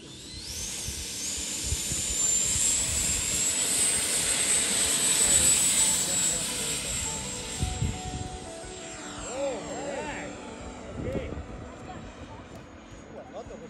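An E-flite F-16 Falcon RC jet takes off on its maiden flight, its electric ducted fan whining in a loud high rushing hiss that swells and then fades as it climbs away, with people talking nearby.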